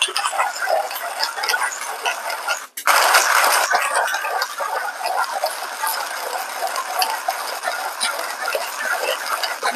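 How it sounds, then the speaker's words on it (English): A manual hand grinder crunches coffee beans at a fine espresso setting, producing a continuous close, gritty rasping with a short pause partway, with no talking. "we're going to time it to see how long it takes for me to grind 18 grams of coffee at espresso setting"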